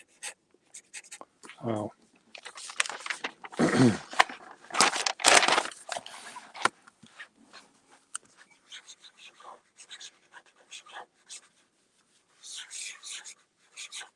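A pen nib scratches across paper in short, uneven bursts of close, dry rasping strokes with quiet gaps between them, and one brief spoken exclamation.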